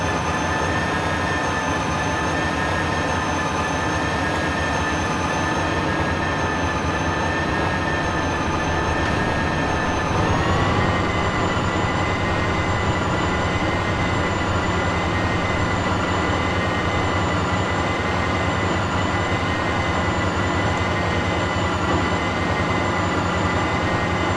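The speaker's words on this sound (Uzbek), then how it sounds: "T ni bosib oldinga yurg'izadigan bo'lsak, mana poyezdimiz yuryapti." A video game train rumbles along the rails with a steady mechanical drone and a faint whine that shifts pitch midway, continuous throughout, no one speaking.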